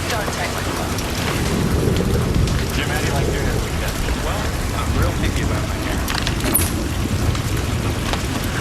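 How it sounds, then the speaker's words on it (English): Steady rain drums on a roof, a dense continuous patter with low rumbling underneath, holding at an even level throughout. "How about the rain on the roof?"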